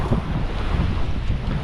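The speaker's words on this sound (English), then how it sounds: "The wind is probably really bad and you can barely hear me" Strong wind buffeting the microphone on an Oahu shoreline, a heavy, low rumbling roar that gusts continuously with no voices.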